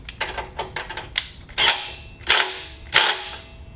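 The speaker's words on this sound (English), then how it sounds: "Tighten your nuts and bolts back up with your 14mm socket and wrench." A ratchet and 14mm socket with a wrench snug the nuts and bolts on a TrailMaster MB200-2 minibike during assembly. Quick close clicking bursts give way to three louder, separate ratcheting pulls.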